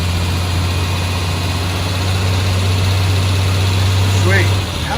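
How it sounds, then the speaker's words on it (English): A rebuilt Triumph TR car engine with new intake gaskets, a hot cam and new hoses runs close by with a loud, steady low drone that holds even. Voices talk over it. "Give it a little gas, see if it'll rev without dying."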